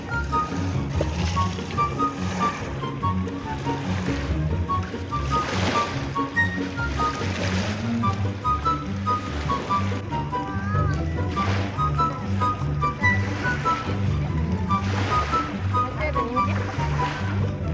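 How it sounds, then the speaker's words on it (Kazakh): A motorboat runs across Alakol lake with a steady, loud engine drone and water rush carrying throughout, while voices talk over it. "Катермен обратно көлге, пляжға қарай кетіп бара жатырмыз."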